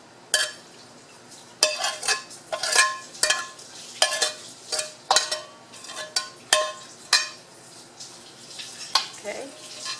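Cilantro, green onions and onion tossed in a pan: a series of sharp metallic scrapes and clanks from a utensil, spaced irregularly and fairly close, with a soft wash of sizzle beneath.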